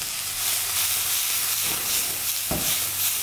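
Chopped onions with a little salt fry in olive oil in a pan, giving a steady close sizzle with a brief stirring scrape near the end and no talking.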